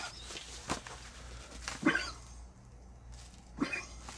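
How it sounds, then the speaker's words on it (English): A dog gives short hacking coughs, three separate bursts spread across a few seconds at moderate volume in a quiet room, with faint background rustling between them. "The dog is going to cough again."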